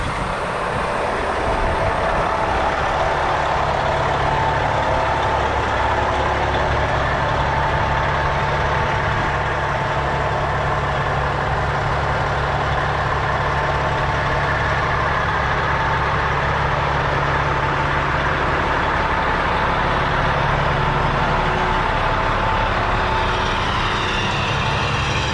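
A fire department tower ladder truck idles steadily while it is being set up with its outriggers out, a continuous low diesel rumble that holds close and even for the whole stretch, with no talking.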